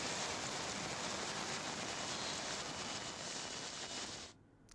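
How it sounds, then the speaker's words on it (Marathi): Heavy rain falls in Pune as a dense, even wash of steady downpour, moderately distant, with a constant hiss that fades out abruptly at the very end. "पुण्यात सलग दुसरा दिवस आहे मुसळधार पाऊस पडतो आहे"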